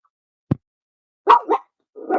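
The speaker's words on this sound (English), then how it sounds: "There's that cute little dog barking its little head off out there." A small dog barks outside, with one short sharp bark followed after a pause by a couple of quick yappy barks and then another, moderately close against silence.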